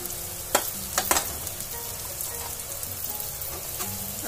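Potatoes sizzle and crackle in a hot pan with sesame and cumin seeds, with a few sharp clatters near the start as they are added and stirred.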